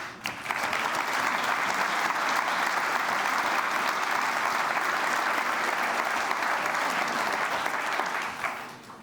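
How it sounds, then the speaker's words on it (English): Sustained applause from a large audience at an awards event for a global essay competition, dense steady clapping filling the space for nearly the whole stretch before tapering slightly at the end. "this moment deserves already a huge applause"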